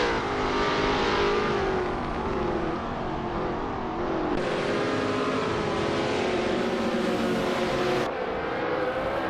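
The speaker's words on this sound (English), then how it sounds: "Cloud Surfer 69 attempting an overtake on Jerkplays on the inside of turn 3." Race cars in a racing video game whine loudly and continuously as they duel for position through a turn, their engine notes rising and shifting as one car tries to overtake.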